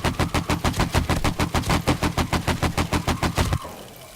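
Rapid automatic gunfire from a weapon in the 7 Days to Die video game during a horde night. About seventeen evenly spaced, punchy shots sound in quick rhythm, then stop abruptly.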